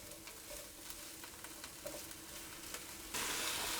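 Mushrooms sweat down in a cooking pan with a faint, steady sizzle and light crackle under soft stirring clicks, close but quiet, swelling to a louder hiss near the end.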